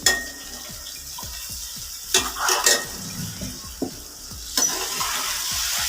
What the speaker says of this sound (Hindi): अभी हम इन सब्जियों को अच्छे से फ्राई कर लेंगे।